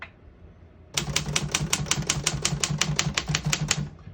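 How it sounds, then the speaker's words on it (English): A 1949 Royal KMG vintage desktop typewriter clacks through a rapid, steady run of about fifteen crisp keystrokes, close and clear, with no voices over it. "all the keys type nice and none of them skip or stick"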